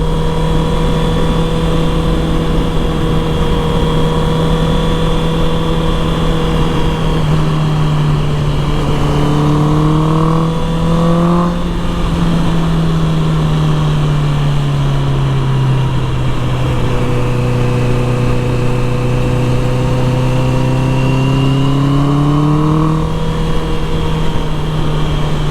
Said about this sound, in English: I love that crack sound whenever I shift now.